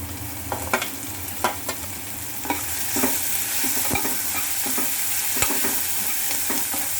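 Steady oil sizzle from green chilies frying in a pan, with occasional clinks and scrapes of a spoon stirring, close by and moderately loud.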